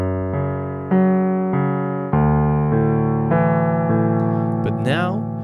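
Piano playing a passage of a piece, with chords struck roughly every second and sustained notes ringing out, close and fairly loud with no talk.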